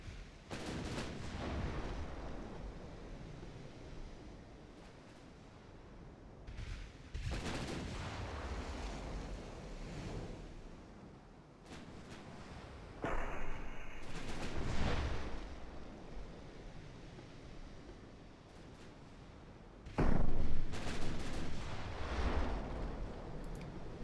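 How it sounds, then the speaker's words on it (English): Warship main guns fire semi-armor-piercing super heavy shells in a 1948 Ottoman naval battle game. Several loud, booming blasts land at uneven intervals, each followed by rumbling decay, over a constant low background roar. "Now this thing is firing semi-AP super heavy shells"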